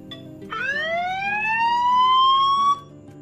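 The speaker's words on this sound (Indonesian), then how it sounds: "membunyikan alarm dari jarak jauh, seperti HP saya ini, kalian perhatikan" An Android phone set off remotely with the Androidlost app sounds a rising, siren-like alarm tone that sweeps upward and holds for about two seconds, loud and close, then cuts off abruptly.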